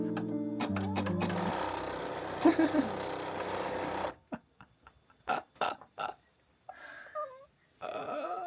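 An embroidery machine runs with a steady whirring buzz for a few seconds, then stops, followed by scattered clicks and short voice sounds.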